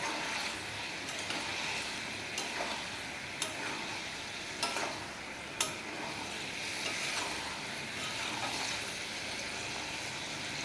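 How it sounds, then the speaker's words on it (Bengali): Potato and eggplant being stirred into fried spice paste for a mustard katla fish curry, giving a steady, close oil sizzle broken by a few sharp spatula scrapes and knocks against the pan, with no talking. "এবার আমি আলু বেগুনটা এতে দিয়ে দেব, দিয়ে ভালো করে নেড়ে চেড়ে নেবো"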